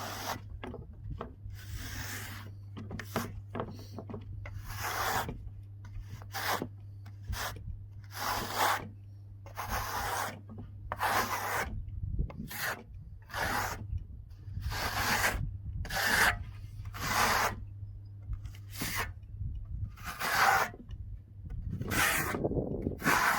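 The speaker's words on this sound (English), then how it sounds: "Apply pressure and a steeper angle of the trowel." A trowel rubs and polishes tadelakt stone plaster in repeated rasping strokes, each about a second long, with short pauses between them over a steady low hum; no talking.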